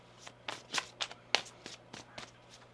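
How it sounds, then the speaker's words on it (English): Tarot cards being shuffled in a series of quick riffling bursts, close and fairly quiet, with a faint background hum. "One more shuffle here."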